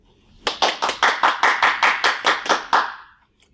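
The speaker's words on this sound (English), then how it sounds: "as we clap to congratulate you" A single close set of hands claps about a dozen times in a steady, even rhythm to congratulate graduates at a virtual college commencement, then stops.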